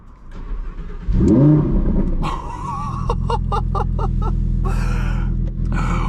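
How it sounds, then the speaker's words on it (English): A Lamborghini Huracán Sterrato V10 fires up with a sharp cranking bark that swells loudly, then settles into a strong, steady idle with a few crisp throttle blips, close by. "Starting up the V10. Let me just set the sport mode here so we have a better sound"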